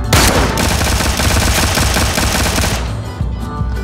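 Rapid automatic gunfire from the video game Ring of Elysium, loud and dense for almost three seconds before cutting off into quieter trailing sounds.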